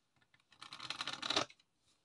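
A deck of playing cards gets riffle shuffled close up, a quick fluttering burst of rapid clicks lasting about a second amid near silence.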